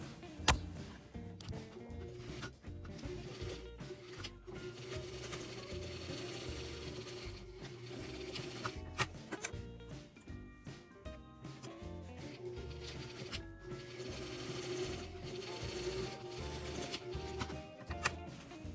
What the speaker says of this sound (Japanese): はい、縫っていきます。